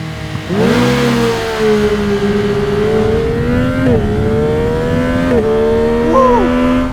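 A Harley-Davidson Pan America motorcycle launches from a standing start in a 1000-metre acceleration run, its engine revving loud and near, climbing through several gear changes marked by brief dips in pitch before rising again.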